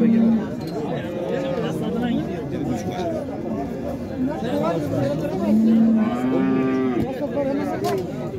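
Cattle, including pregnant heifers and cows, moo repeatedly at a busy livestock market in Şarkışla, their low calls rising over a constant murmur of crowd chatter and people talking.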